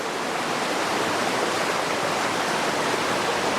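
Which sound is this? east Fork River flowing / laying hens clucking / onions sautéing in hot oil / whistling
east Fork River flowing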